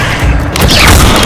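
Incendio fire spell cast in the Hogwarts Legacy video game on PS5, a loud, dense burst of whooshing, crackling flame and booming impact lasting about a second, with no pause.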